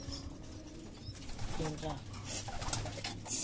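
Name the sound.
pet pigeon cooing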